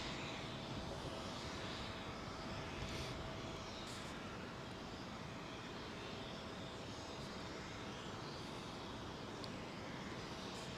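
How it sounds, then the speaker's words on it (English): A British Airways Airbus A380 jet climbs out overhead London Heathrow runway 09R, a sustained wide rushing engine roar heard from below, steady and unbroken with no talk. "These BA380s can go quite long and be quite low"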